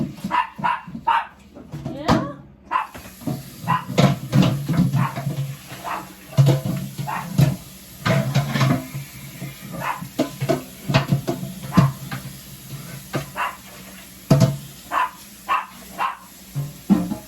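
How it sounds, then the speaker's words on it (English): Dogs bark repeatedly in uneven bursts, somewhat muffled and distant, with a person speaking briefly in between. "My dogs are having a fit out there."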